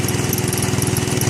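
A 1967 Case 155 garden tractor fitted with a 12 hp Kohler engine runs steadily nearby, a loud rhythmic low thrumming idle with a fast even pulse and no talk.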